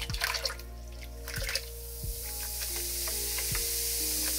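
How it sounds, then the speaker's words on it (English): Baking soda dumped into water with lemon juice fizzes steadily at close range, a dense hiss and crackle building over a few seconds, with a few knocks and clunks early on. "we're gonna get this baking soda and we're gonna dump this inside of the water. This thing is probably gonna start fizzing up,"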